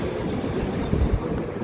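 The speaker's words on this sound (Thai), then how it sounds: "รถไฟธรรมดาสายธรรมดาครับ" An ordinary regular train passes through a small station with a steady rolling rumble and faint rhythmic wheel clatter, heard alone at moderate volume.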